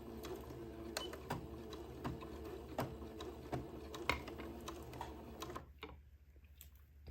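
Sewing machine stitching a skirt seam for a Christmas dress, a steady quiet mechanical whir with regular light ticking clicks, close by, stopping near the end.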